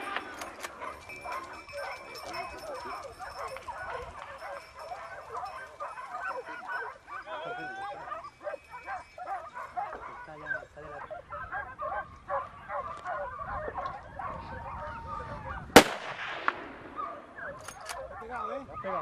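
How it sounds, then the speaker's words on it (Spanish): Pack of hunting dogs barking and baying while chasing a wild boar down a hillside during a Spanish monteria, distant overlapping barks under a man's speech, with a sharp loud bang near the end. "Los perros han levantado en todo lo alto un jabalí que se ha dirigido testero abajo"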